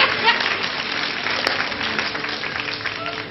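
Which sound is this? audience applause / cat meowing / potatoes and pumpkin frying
audience applause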